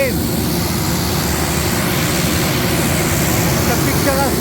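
Airplane engine roaring steadily from inside the cabin, a loud continuous broadband drone that fills the whole clip without pause.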